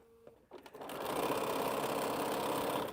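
A sewing machine stitching a quilt starts up after a couple of soft clicks and then runs at a steady, fast, humming whir.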